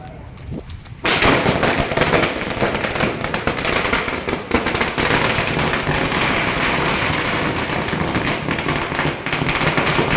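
Diwali firecrackers bursting outdoors in a dense, loud barrage of cracks and pops, continuous and close after a brief quieter start, with faint voices in the background.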